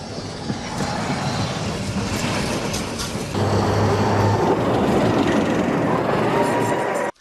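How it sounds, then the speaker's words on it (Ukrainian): A tram rolls along tram tracks on a city street, a loud steady rumble with a deeper low hum joining midway as it passes close by, then cutting off abruptly. "ризикуючи життям, оскільки їде трамвай, а тут трамвайні колії"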